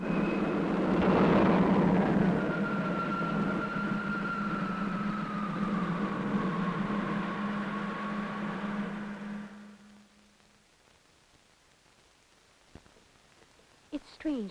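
A 1962 TV series spaceship takeoff effect: a loud electronic roar with a wavering whistling tone swells and holds for about nine seconds, then cuts away to quiet with a couple of faint clicks.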